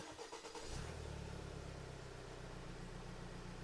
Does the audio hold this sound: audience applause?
no